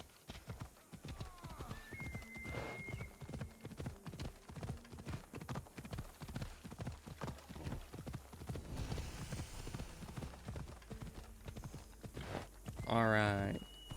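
Horse hooves clip-clop steadily in a video game, a brisk repeated walking rhythm that runs close and clear throughout, with a short whinny near the end.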